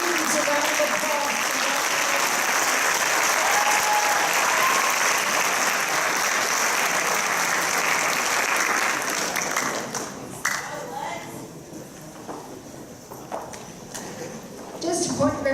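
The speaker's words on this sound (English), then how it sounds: "Give all these students a round of applause." Sustained audience applause for award-winning graduating seniors at a high school senior awards ceremony, a dense wash of clapping filling the room for about ten seconds before thinning out and fading into quieter room noise.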